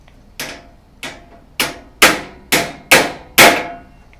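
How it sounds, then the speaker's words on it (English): Hammer blows in a video game, seven sharp metallic strikes at a steady, slightly quickening pace, each ringing briefly, growing louder toward the end, with no talk. "Hammering effects required."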